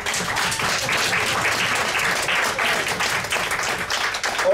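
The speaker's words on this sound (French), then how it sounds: "est-ce qu'on va acclamer Jésus-Christ?" A church congregation in Cergy-Préfecture applauds steadily, with dense, continuous clapping from a crowd that holds a strong, even level throughout.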